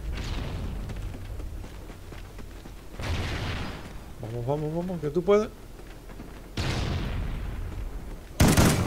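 Gunfire in the first-person shooter Call of Duty Ghosts comes in bursts of booming shots and explosions that start sharply and fade away, with a player's voice talking excitedly in between.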